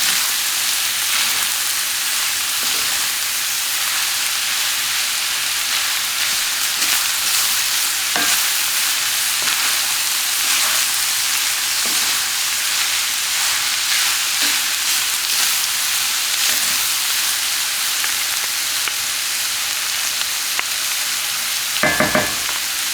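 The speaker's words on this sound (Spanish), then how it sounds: "Vamos a integrar todo. La carne con los chiles," Ground beef with chiles, onion and garlic sizzles loudly and steadily in a pan while it is stirred, with faint scraping strokes under the constant frying hiss. A brief clatter comes near the end.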